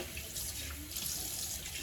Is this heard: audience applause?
no